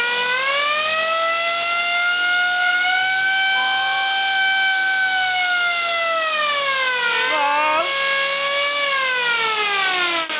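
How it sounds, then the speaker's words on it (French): A loud, sustained homemade industrial siren wails steadily with rich harmonic tones, its pitch dipping and swerving briefly before settling again, with no talk over it. "Nous avons une sirène faite avec de l'ingénierie inverse. Et elle sonne bien, hein ?"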